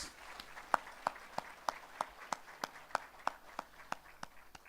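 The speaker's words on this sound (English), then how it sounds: "Another big round of applause." Slow, evenly spaced hand claps at a digital transformation summit in Diani, about three per second and fairly quiet, as if from only a few audience members keeping a steady rhythm.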